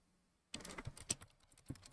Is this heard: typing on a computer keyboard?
yes